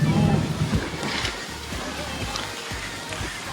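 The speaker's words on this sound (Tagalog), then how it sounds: "Lumapit tayo sa dagat. Ang ganda ng dagat." Sea waves at a beach campsite, a steady rush of surf under strong wind noise on the microphone, loudest at the start and continuing as a broad outdoor wash.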